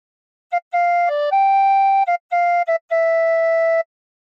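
A clear tin whistle plays the melody of O Christmas Tree in sustained, pure notes with brief breaks between phrases, bright and close, with no other sounds.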